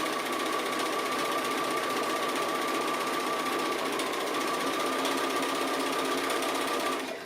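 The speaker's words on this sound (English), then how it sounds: "I'm just doing the stitching. Because I like free motion stitching" A sewing machine chatters steadily through free motion appliqué stitching, loud and close, with a constant rapid needle rhythm that holds for several seconds and trails off at the end.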